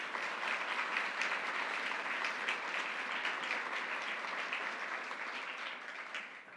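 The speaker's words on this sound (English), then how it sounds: "Let's give him a round of applause." A large audience claps warmly for a university leader at a governor's announcement event in Troy, sustained dense applause holding steady for several seconds before tapering slightly at the end.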